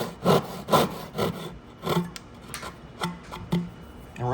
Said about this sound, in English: Come in there again with my crosscut saw.